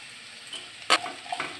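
Chopped onion with garlic and ginger fries in a pan, a soft steady sizzle broken by one sharp clatter of stirring near the middle and a few lighter scrapes after.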